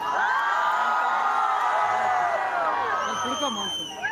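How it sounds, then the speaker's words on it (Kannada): A large outdoor crowd at a film title launch at the Basavanagudi groundnut fair whoops and cheers loudly and continuously, with shouting voices blending into a dense roar. "ಒಂದ್ಸಲ ಟಿ ಎಸ್ ಸೆವೆನ್ ತಂಡಕ್ಕೆ ಜೋರಾದ ಚಪ್ಪಾಳೆ ಬರಲಿ"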